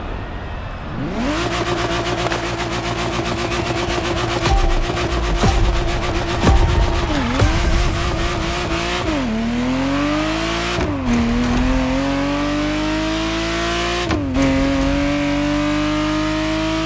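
Ferrari Testarossa engine in The Crew Motorfest racing game, loud and close, revving hard and climbing through the gears with several brief dips at each shift before pulling again.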